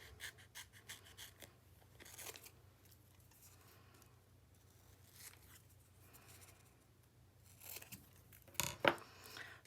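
Scissors cut out a frame insert that still has its protective backing layer on, making a few faint, scattered snips at a desk, with a sharper cluster of cuts near the end.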